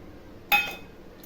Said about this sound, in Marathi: एक मिडियम साईजचा टॅमॅटो टाकते